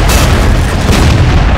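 A King Tiger tank cannon fires in the video game Steel Fury, a loud, sustained booming blast that fills the whole moment with deep rumble and no voices over it.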